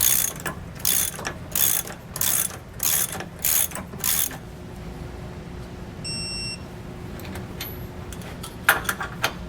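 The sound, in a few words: 3/4 inch wrench and socket tightening sway bar bolts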